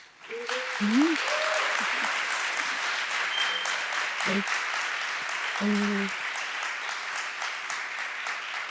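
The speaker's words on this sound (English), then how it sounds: "Give our guests a round of applause." An audience claps steadily for several seconds, with a few brief voices and whoops rising over the applause.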